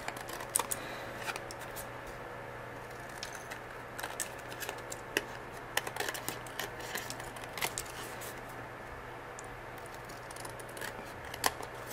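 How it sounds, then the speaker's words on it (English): Scissors snipping excess paper scraps from a handmade Halloween card, a series of close, crisp cuts at an uneven pace with faint paper rustling in between and a low hum underneath. "I'm just cutting off all the excess"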